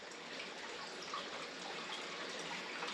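Water running steadily through a gold sluice box while washing magnetite material, a constant, even rushing and trickling flow close by with no pauses.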